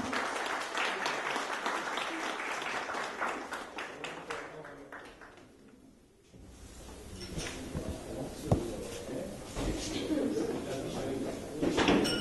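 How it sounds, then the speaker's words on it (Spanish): An audience applauds through the first half, a dense wash of clapping that fades out around the middle, followed by a voice speaking and a few room knocks. "Con ustedes, y les pido un gran aplauso, Matías."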